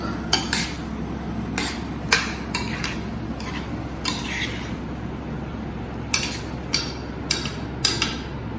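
Lauki cooking in milk and malai is stirred in a pot, giving a string of sharp utensil clinks against the metal at irregular intervals over a low steady simmer, fairly close and with no talking.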